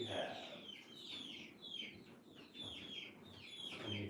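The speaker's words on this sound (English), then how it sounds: "You might be able to hear our chickens" Several chickens cluck and squawk repeatedly nearby in an uneven, busy chorus, with faint talking mixed in.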